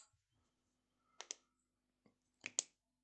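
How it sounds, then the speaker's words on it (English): A few quiet, crisp clicks come close up in small clusters, a pair, a single and then a tight burst, with near silence between them. "if you heard those clicking sounds, it was me"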